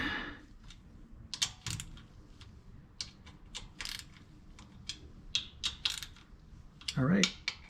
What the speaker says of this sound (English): Kind of choking up on the ratchet.